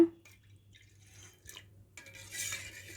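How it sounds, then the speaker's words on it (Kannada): Water goes into a ground, strained pani puri mixture in a kitchen vessel: a few light metallic clinks and drips first, then a fuller, steadier pour splashing in toward the end, close and fairly quiet. "ಇವಾಗ ನೀರು ಹಾಕ್ಕೊಳ್ಳೋಣ."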